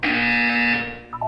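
A loud, harsh electronic buzzer from the video game Portal 2 sounds for about a second, then cuts off with a short blip.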